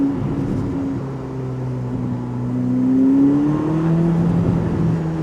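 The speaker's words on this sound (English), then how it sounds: "Pops and bangs, oh my goodness." A Ferrari SF90 Spider's V8 engine drones with the roof down, a steady tonal hum that slowly rises in pitch as revs climb, with no distinct pops or bangs standing out.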